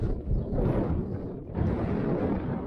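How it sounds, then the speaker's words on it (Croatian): Strong wind buffets the microphone on a 1014 m mountain summit in Ćićarija, a loud continuous low rumble with gusty surges and a brief dip midway, with no voices. "probat ću vam što manje pričati, jer je vjetar jak"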